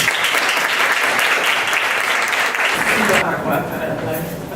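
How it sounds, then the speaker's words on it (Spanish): Warm, dense audience applause greets the keynote speaker at an academic conference, holding steady and loud for about three seconds before thinning into a softer, scattered patter near the end. "la recibimos con un fuerte aplauso"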